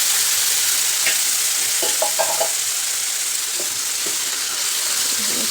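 Roasting moong dal for a traditional halwa sizzles loudly as boiling water goes in, a continuous bright hiss with a few clinks and stirring sounds near the pan, no talking.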